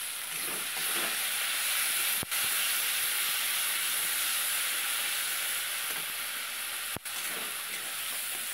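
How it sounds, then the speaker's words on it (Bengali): Chopped tomato sizzling in hot oil alongside fish for a Bengali oily koi curry, a steady close hiss of frying that runs throughout with no voices. "এখানে টমেটো কুচি দিয়ে দিলাম। বেশ বড় একটা টমেটো কুচি দিয়ে দিয়েছি।"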